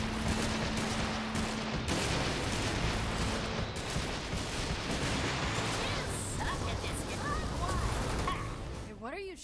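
Heavy, sustained gunfire rattles through a Sunset Overdrive firefight, with machine-gun bursts and blasts tapering off near the end, while voices talk over the shooting.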